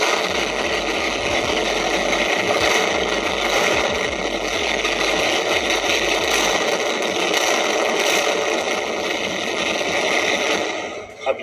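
A used Harley-Davidson motorcycle engine idling steadily and loud, a dense mechanical rattle and throb that carries on without a break for about ten seconds before cutting off near the end.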